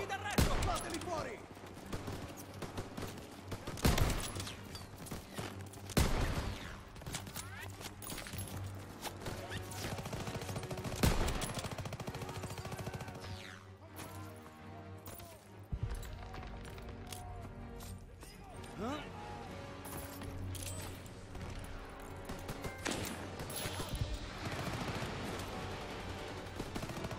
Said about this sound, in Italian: Mitragliatrice al secondo piano!